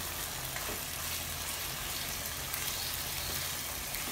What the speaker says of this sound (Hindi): इसको हमने 5 मिनट फ्राई करना है और 5 मिनट फ्राई करके इसको हम कढ़ाई से बाहर निकाल लेंगे।